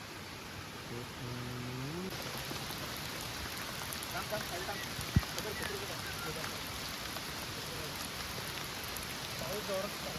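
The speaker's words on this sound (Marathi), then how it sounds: "पाऊस आला" Steady rain hisses evenly throughout at a night rain campsite, with a few faint chirps early on and a single sharp knock midway.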